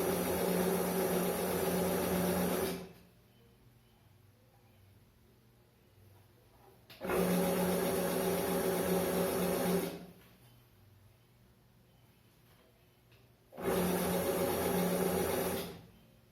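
Sewing machine stitching the centre seam of a fabric face mask in three bursts of steady whirring, each about three seconds long, separated by quiet pauses, with no talking.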